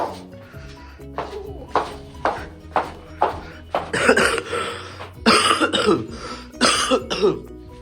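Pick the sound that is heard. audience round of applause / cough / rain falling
cough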